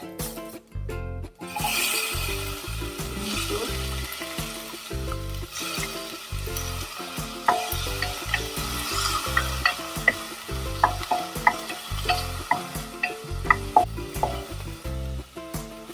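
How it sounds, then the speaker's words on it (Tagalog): Garlic sautéing in Saladmaster cookware for Filipino shrimp and mung bean stew gives a loud, steady sizzle and crackle, with rhythmic stirring clatter throughout and brief sharp pops toward the end; no one speaks. "Pwede din hindi natin igigisa yung bawang, pero for me, mas gusto kong igisa ito."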